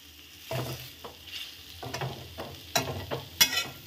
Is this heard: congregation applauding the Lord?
no